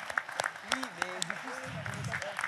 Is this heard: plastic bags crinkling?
no